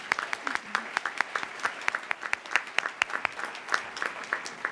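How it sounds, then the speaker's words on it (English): Audience applause at a speaking event, a steady patter of many hands clapping at moderate distance, fairly soft, with a voice speaking over the clapping. "All right, Albally, that applause was just as much for me as it was for your wonderful introduction."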